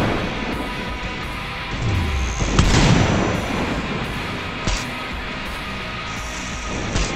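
Smart bomb blasts going off in the mobile shooter Tacticool during an arena tournament match: a loud booming explosion at the center with scattered sharp pops and thumps over dense background gunfire and rumble.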